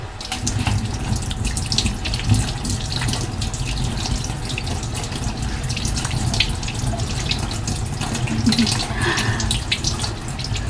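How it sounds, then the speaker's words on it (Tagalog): Ripe, very sweet yellow fruit, ant-covered, is rinsed under a running tap into a sink, a steady close splashing rush of water lasting throughout with small drips and handling sounds. "Hugasan muna natin bago natin kainin."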